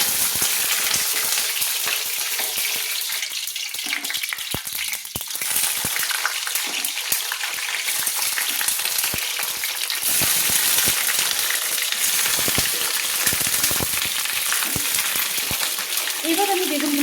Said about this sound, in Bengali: এবার আমি বেগুনগুলোকে ভেজে নেব। তেলটা গরম হয়ে গিয়েছে, এবার আমি এক এক করে বেগুনগুলো দিয়ে দেব।